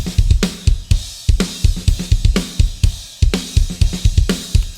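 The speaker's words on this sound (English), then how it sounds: "I've got it set to a large wooden room." A drum kit run through 7th Heaven Professional reverb set to a large wooden room, with punchy kick and snare hits in a steady driving groove, loud and alone, with a roomy wash after each hit.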